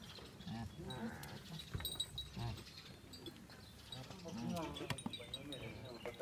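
Goats bleat at a goat farm in Chakanwali, Gujrat, with a few wavering calls rising over a busy, fairly quiet background of farm and mechanical noise while people talk nearby.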